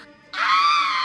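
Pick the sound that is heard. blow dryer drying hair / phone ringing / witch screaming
witch screaming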